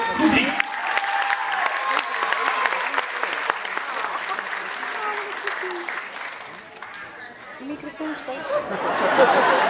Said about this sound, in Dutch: Applaus voor Lazo, goed hier.